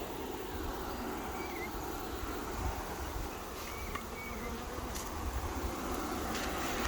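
A swarm of honey bees hums in a dense, steady buzz at low level, broken now and then by faint clicks and handling noises, with no talk.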